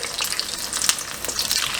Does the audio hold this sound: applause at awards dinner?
no